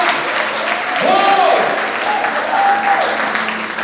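A church congregation applauds during a Portuguese-language sermon, a steady wash of clapping across the whole moment, with the preacher's voice and shouts of praise rising over it.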